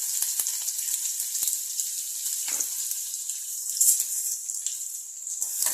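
Five or six crushed garlic cloves hit hot oil already crackling with cumin seeds, giving a steady, close, hissing sizzle with small pops throughout and no talk.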